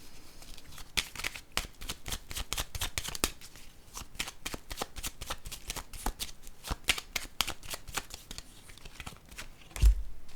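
A deck of playing cards being shuffled, with a rapid series of crisp riffling bursts repeating throughout, close and clear, with no talk.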